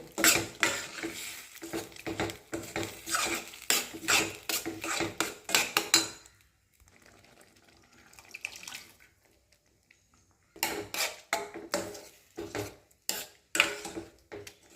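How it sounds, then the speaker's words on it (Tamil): Ladle mashing cooked vegetables and lentils in a pot, repeated wet scraping and thudding strokes in rapid bursts, pausing midway before resuming. "கரண்டி நல்லா மசிச்சு விட்டோம்னா காய் பருப்பெல்லாம் ஒன்று போல் கரைஞ்சிடு"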